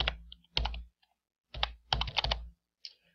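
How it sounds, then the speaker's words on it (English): Password typed on a computer keyboard in bursts of quick, close key clicks, with short pauses between runs of keystrokes and no talking. "So we'll go ahead and enter our password in also here."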